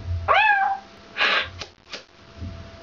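A voice imitates a cat with a gliding, whiny meow, followed by a breathy hiss-like burst and softer puffs, close and alone.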